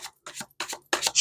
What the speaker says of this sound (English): shuffling, you know, maybe a little bit of slicing